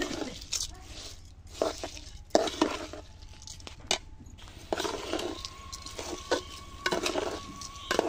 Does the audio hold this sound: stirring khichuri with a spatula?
yes